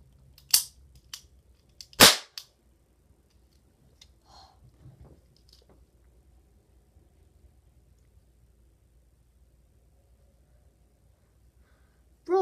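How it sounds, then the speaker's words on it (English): A little toy cap gun fires two sharp, loud cracks in quick succession, followed by faint handling noises and near silence. "it's a little toy gun"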